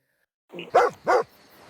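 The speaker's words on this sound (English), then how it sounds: "the dogs begin to bark a familiar bark" Dogs bark several times in a row, close and fairly loud, after a moment of silence.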